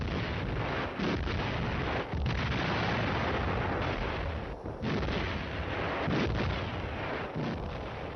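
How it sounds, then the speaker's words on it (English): Massed Soviet artillery bombardment of Finnish positions in the 1939 Winter War, heard as a continuous dense rumble of overlapping booms, loud and unbroken with occasional sharper blasts, as in an old war recording. "Massed Soviet artillery opened up, and for 5 hours worked its way backwards and forwards across the Finnish positions"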